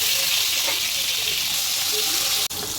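Prawns frying in a wok in a home kitchen, with a loud, steady, close sizzle and hiss of hot oil that continues almost without pause.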